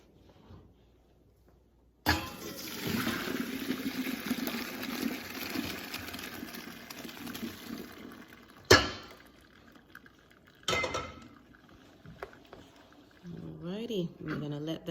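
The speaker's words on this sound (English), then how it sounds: "Drain out the water." Hot pasta water is drained from a cooking pot, a loud rushing pour that runs for about seven seconds, then a sharp clank and a few shorter clatters, with a voice speaking near the end.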